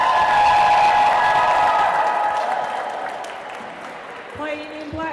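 An indoor crowd at a roller derby bout applauds and cheers for the Rainy City team, a loud burst that slowly fades, with a voice speaking near the end.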